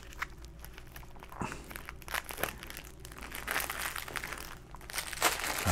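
Close plastic bag crinkling and rustling in irregular bursts as a bag of gray flax silk fiber blend is opened, growing louder and busier toward the end.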